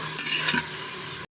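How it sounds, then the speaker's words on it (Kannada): Tomato added to fried onion in a pan for a mixed-greens sambar: a couple of quick stirring scrapes followed by an even, bright sizzle, short and close, ending abruptly in silence. "ಟೊಮೊಟೊ ಹಾಕ್ಕೊಂಡು ಸಹ ಒಮ್ಮೆ ಚೆನ್ನಾಗಿ ಫ್ರೈ ಮಾಡ್ಕೊಳ್ಳೋಣ"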